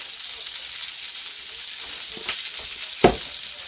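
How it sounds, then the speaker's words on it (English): A mustard-coated cobia fillet, seasoned with white pepper and a salt mixture, sautés in a pan with a steady close sizzle, broken by one sharp knock near the end. "while that is sauteing"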